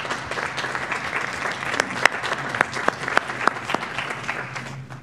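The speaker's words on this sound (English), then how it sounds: "if you join me in applauding our board members on their appreciation" Applause from a school board meeting audience honoring board members, a moderate room-filling patter of many hands with a few sharper individual claps standing out, steady throughout and tapering slightly at the end.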